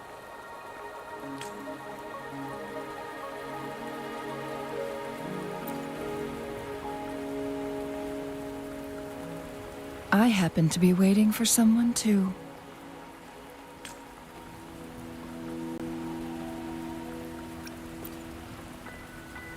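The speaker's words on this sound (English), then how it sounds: "Are you trapped here by the rain?" Steady rain falls in the video game Wuthering Waves, a soft continuous patter under a calm music bed, with someone speaking briefly in the middle.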